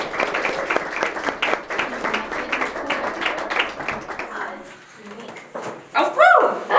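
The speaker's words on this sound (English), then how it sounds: "Round of applause" Audience applause at a map-making workshop session, a dense round of clapping for about five seconds that fades out, followed by a brief voice and laughter at the end.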